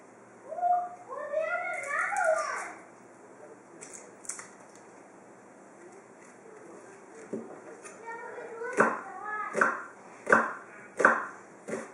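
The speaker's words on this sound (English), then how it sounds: "Chop the onion and add it to your skillet." An onion being chopped with a knife, a run of about seven rhythmic, close knocks on a cutting board following some earlier scattered noise.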